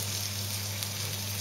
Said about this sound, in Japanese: 肉の焼ける音とこの匂いが素晴らしいです。